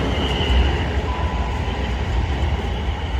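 A South Western Railway Class 450 electric unit rolls through Vauxhall station, a steady, close rumble of wheels and motors with faint rail clatter throughout.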